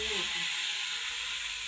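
Onions, chillies and tomatoes sizzle in a pan for Maggi noodles, a dense steady hiss for a brief moment, close by and with no talking.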